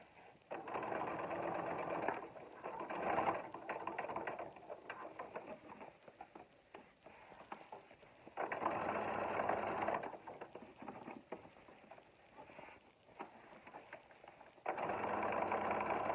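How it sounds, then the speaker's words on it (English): A sewing machine stitches close along the brim of a small elastic scrub hat, running in several steady bursts of a few seconds each with quiet pauses between. "I'm just sewing as close as I can."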